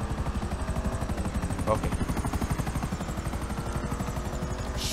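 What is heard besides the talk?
helicopter in the video game GTA 5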